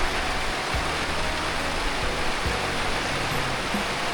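Steady, dense rain pours down outdoors in a constant loud hiss, with a few faint low thumps underneath and no voices.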